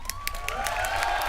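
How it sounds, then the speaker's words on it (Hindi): Audience applause and cheering during a Hindi comedy stage show, a steady dense wash of clapping at moderate loudness that holds for the whole moment, with a tone sweeping through it. "सबसे पहले हमारे कॉन्फिडेंस के लिए जोरदार तालियां हो जाएं"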